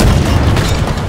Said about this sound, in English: You like rocket launcher?